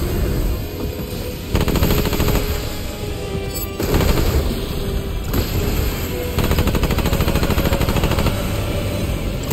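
Gunfire in Remnant 2 as a target is shot, with dense automatic bursts and heavy booming shots in loud repeated volleys across the whole stretch.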